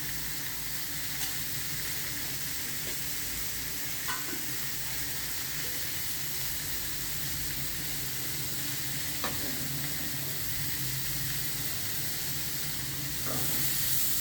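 Bitter gourd frying in oil as it is stirred, a steady broadband sizzle throughout with occasional faint scrapes of a spoon against the pan, close and fairly quiet.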